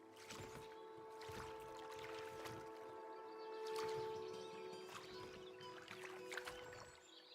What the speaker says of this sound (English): That's an interesting paddling mechanic.